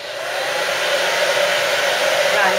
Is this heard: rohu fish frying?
no